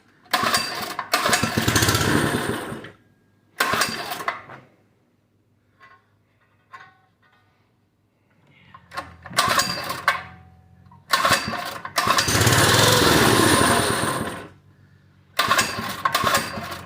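A Doodlebug minibike's small engine is pulled to life several times, catching and roaring loudly for a second or two, then cutting out with quiet gaps of clicks and handling between runs, no talk.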